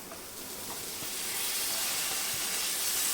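Spiny gourd (kantoli) dropped into a hot pan gives a steady, close sizzle with a broad hiss that grows slightly louder and continues throughout, with no talking.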